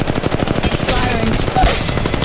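Rapid automatic gunfire in the Apex Legends Mobile battle royale game, dense bursts of loud shots rattling continuously for a couple of seconds with game effects layered over the firing.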